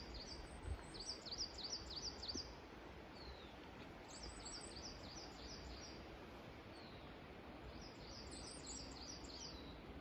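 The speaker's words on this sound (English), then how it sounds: "Listen to the birds." Birds sing in a forest, repeated high chirping phrases coming in bursts over a quiet, rustling background, faint and somewhat distant.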